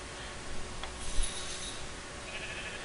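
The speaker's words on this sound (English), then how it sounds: "I hear sheep, but I don't see sheep." Sheep bleating in Minecraft, a single faint bleat heard over a steady low background hum, with no talking.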